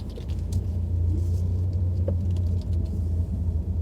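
A steady low rumble of road and engine noise fills the inside of a moving car on the road to Tampa, continuous and close with a few faint clicks and no talking.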